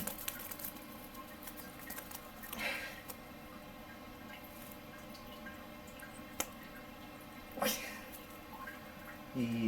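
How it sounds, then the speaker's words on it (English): A pet bird bathes under water dripping into a kitchen sink, with faint patter and scattered drips and splashes close by, while people talk quietly. "This is Kish getting a bird bath in the kitchen sink."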